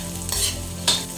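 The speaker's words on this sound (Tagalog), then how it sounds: "Ngayon lagyan ko ng konting olive oil. Then ilagay na po natin yung sibuyas bawang." Onion and garlic sautéing in a little olive oil, with brief bursts of stirring scrapes over a low sizzle, two distinct louder strokes in a short span, no voices.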